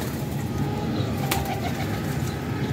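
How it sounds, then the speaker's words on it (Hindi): Pigeons let loose in a rooftop loft area make a steady dense mix of wing flaps and soft cooing, close and continuous, with one sharp click midway. "अपने सारे कबूतर उतार के इधर छोड़ दिए हैं।"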